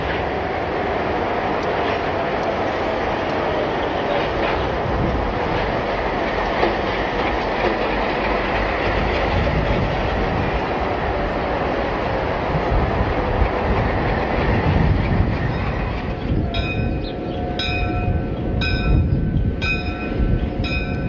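Train on Mexico's Pacifico Railroad rumbling past at close range, a steady rolling roar with wheel clatter, and a ringing bell joining in near the end.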